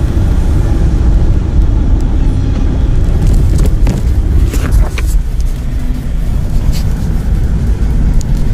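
A car drives along a highway and picks up speed, its engine rumble and road noise steady and loud from inside the cabin, with faint voices now and then.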